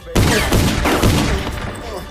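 Gunfire from a horror movie playing on a screen, a dense loud burst of overlapping shots and booms lasting about two seconds.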